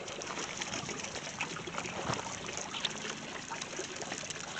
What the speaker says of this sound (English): Just gonna water these in.